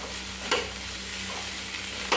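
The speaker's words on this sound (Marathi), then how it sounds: "ते एकत्र असं हलवून घ्यायचं" Green chilli thecha with coarsely crushed peanuts stirred in a pan: a steady low sizzle with two quick spoon scrapes against the pan, close up.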